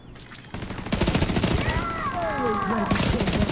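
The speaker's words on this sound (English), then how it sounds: "Let's try the turret." Mounted turret firing in The Division 2, a dense rapid burst of loud automatic shots that starts about half a second in and keeps going, with whistling tones and game sounds layered over the fire.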